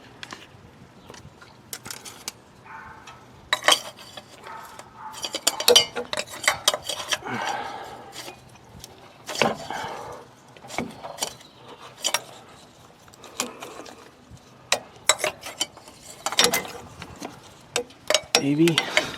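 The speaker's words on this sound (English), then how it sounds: "We'll put our filter wrench on it," Metallic clanks and ratcheting clicks from a filter wrench gripping and turning the oil filter on a 2002 Ford Mustang 3.8 V6, a series of sharp close knocks in bursts with some talk between.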